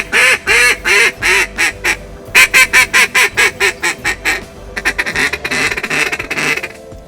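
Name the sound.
duck call imitation by world champion duck caller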